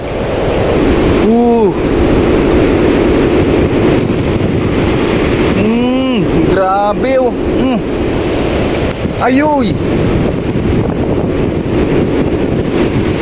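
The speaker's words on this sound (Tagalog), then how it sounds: "grabe yung lakas ng hangin" Strong typhoon wind in Taiwan roars and buffets the microphone without pause while a voice exclaims a few times over the din.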